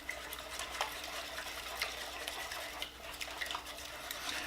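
An egg mixture with finely grated pecorino romano being mixed for a frittata, soft repeated whisking scrapes over a low steady hiss, close but quiet, with no voices.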